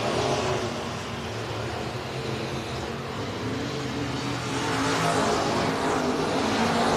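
Race cars roaring around the Heart O' Texas Speedway on championship night, a dense continuous engine drone from several cars that swells near the end, loud and without voices.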